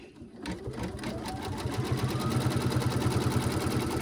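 A sewing machine stitches around an embroidered daffodil coaster, a loud, close, fast mechanical chatter that quickly settles into a steady, even rhythm of needle strokes with a humming motor underneath.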